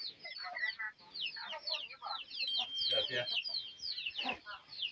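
Chickens cluck and chatter busily with sharp, overlapping calls, close by and fairly loud, with a few higher squawks mixed in.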